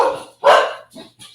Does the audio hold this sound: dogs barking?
yes